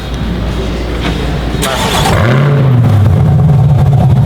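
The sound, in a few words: Lamborghini Murcielago supercar engine starting via remote start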